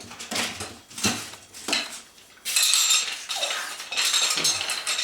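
Sandpaper being peeled off a sanding pole used for drywall sanding, a series of crinkly, scratchy tearing and rustling bursts up close, alone without talk.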